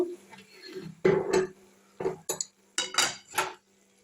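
A cooking pot of spicy freshwater snail curry being lifted off a gas stove, with several close metallic clanks and scrapes of pot and utensils in separate bursts, no talking.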